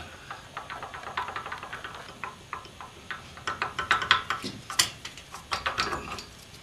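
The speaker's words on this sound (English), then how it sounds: "Pliers to squeeze the pads back away from the disc and rotors." A big pair of pliers squeezing the front brake pads of a Mercedes 300D back from the disc rotor, giving a series of faint, irregular metallic clicks and creaks at close range.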